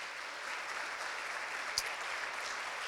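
A church congregation applauds Jesus during a Sunday morning service, a steady, soft wash of many hands clapping at a distance with one sharper knock partway through.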